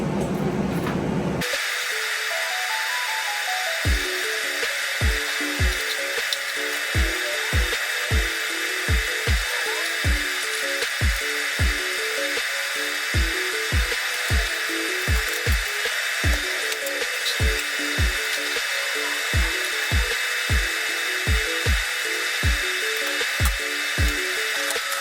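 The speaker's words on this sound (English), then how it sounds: "basically lay a few tack welds, and then I will start welding the first bung" TIG welding tack welds and then an EGT bung under gas purge, a constant high-pitched hiss and buzz with a regular series of low, evenly spaced pulses running beneath it, close and steady throughout.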